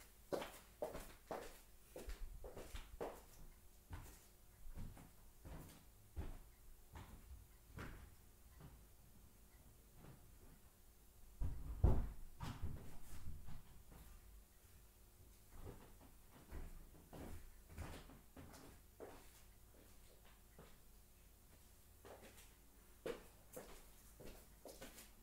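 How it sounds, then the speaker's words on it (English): Door closing inside a video game, a short thump among scattered clicks, creaks and shuffling footstep-like knocks at low level. "I'm gonna close the door real quick, just in case."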